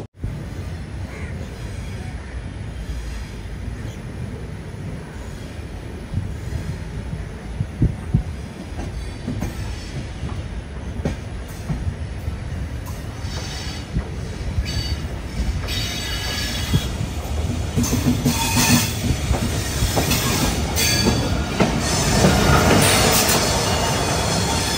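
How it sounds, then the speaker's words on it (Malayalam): Charminar Express pulling into Secunderabad Junction railway station: a steady rumble of rolling wagons and wheel noise that swells louder toward the end, with no voices. "സെക്കന്ദരാബാദ് ജംഗ്ഷൻ റെയിൽവേ സ്റ്റേഷനിലേക്ക് വണ്ടി എത്തിക്കൊണ്ടിരിക്കുകയാണ്."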